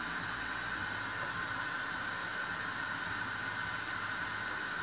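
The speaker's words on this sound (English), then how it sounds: "that's a fan blowing into goggles" A small fan blows steadily into FPV goggles, making a constant, faint, broadband hiss that stays unchanged for the whole stretch with no voices.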